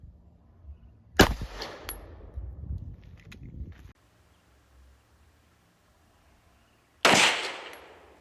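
Two loud, sharp gunshots fire 80 grain Fort Scott Munitions TUI (tumble upon impact) rounds about six seconds apart. Each crack is close and rings out in a decaying tail, with faint handling noise between the shots.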